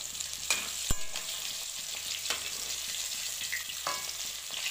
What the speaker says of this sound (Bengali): ততক্ষণ মাছটা ফ্রাই হয়ে যাচ্ছে।